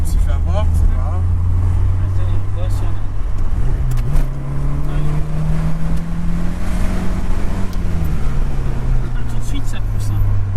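Volkswagen Golf with a 1.8 engine accelerating hard, engine note climbing in pitch through the gears with a shift partway, loud and close from inside the car, with wind and road roar throughout.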